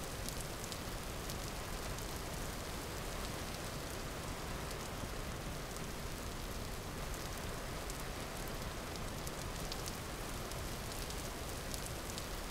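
Steady rainfall in the video game Vintage Story, a dense, even patter of drops on surfaces that runs unbroken and fairly quiet, with no voices over it.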